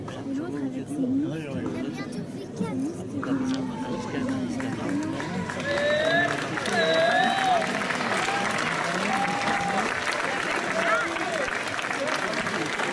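A crowd claps continuously at a Basque strength contest, a cart-lifting event, amid busy background chatter and shouting voices, the applause steady and fairly loud throughout.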